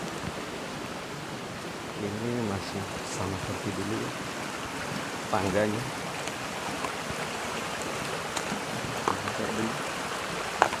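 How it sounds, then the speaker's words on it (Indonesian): A village river near rice fields flows with a steady, close rushing hiss, while someone speaks over it intermittently. "Sekarang kita udah nyampe di sungai ya."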